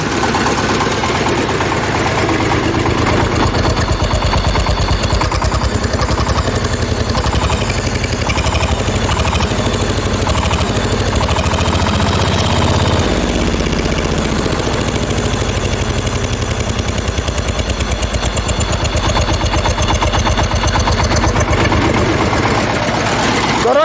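A loud, steady diesel engine of a Shifeng 160 tractor rumbles at idle for the whole stretch, with a constant low throb and rattly mechanical clatter, close by.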